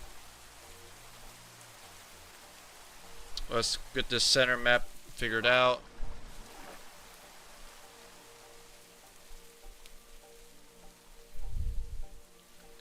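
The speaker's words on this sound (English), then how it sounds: "so we're not going to escape the rain." Steady rain falls in the video game Minecraft as a soft, constant hiss throughout, while a person talks over it for a few seconds in the middle.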